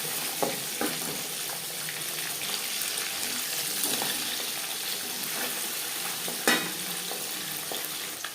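Pabda fish fries in a pan with a steady, moderate sizzle and crackle up close, with scattered light clicks and a sharp knock of a utensil near the end.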